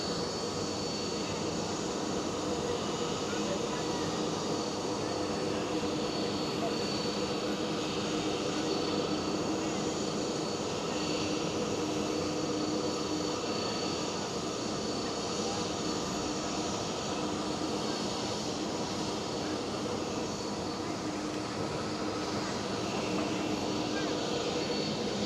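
A Delta Airlines Airbus A330 taxiing at Amsterdam Schiphol airport gives a steady, distant jet engine rumble and broadband roar that stays constant throughout, with people talking intermittently over it.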